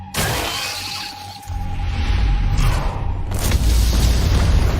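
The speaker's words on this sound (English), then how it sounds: "Looks like fireworks are going off in the ant tunnels." Explosions sound like fireworks going off in ant tunnels in the Solo Leveling Arise video game: a sharp boom opens, then rumbling blasts and shattering crashes build into a loud, sustained barrage.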